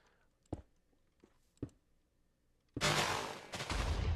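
A few sharp clicks or pops, then a sudden loud, broad blast that rumbles on for over a second: a TNT explosion from a Minecraft mod in the video game.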